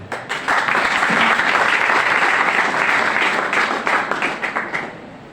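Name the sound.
students applauding their teachers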